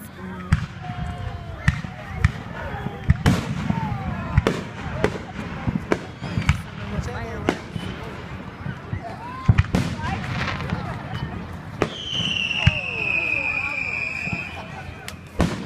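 Repeated sharp booms and crackles of fireworks, some distant and some close, scattered irregularly; a high whistling streak rises near the end.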